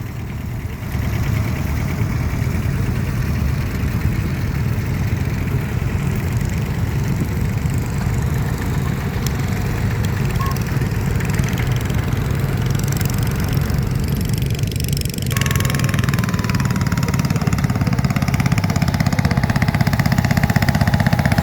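A small Kubota tractor of about 12 horsepower idles nearby at an outdoor ploughing day, its engine making a loud, steady chugging throb that holds throughout with no talking.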